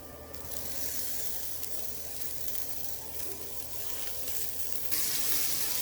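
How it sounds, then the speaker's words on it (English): Seasoned green beans sizzle on a hot grill pan with a steady, close, crackling hiss that holds evenly and brightens near the end, with no talk. "we're just going to add our green beans right on to the grill pan"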